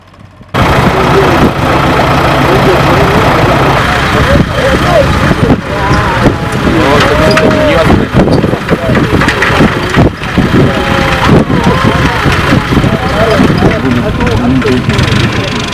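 Powerful farm tractors run in a loud, steady engine drone on a farm, continuous and close throughout with no break.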